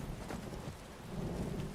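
Thunder during a rainstorm in Skyrim: a low, rolling rumble over steady hissing rain, filling the whole short stretch without any talk.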